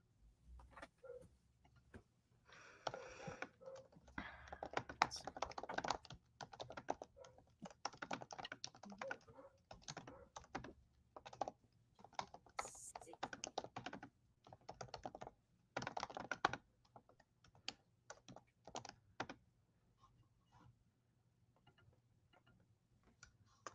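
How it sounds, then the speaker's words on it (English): Keys clatter on a computer keyboard in quiet, irregular bursts of fast tapping with brief pauses, close and soft, with no talking. "I'm typing this out to Katie."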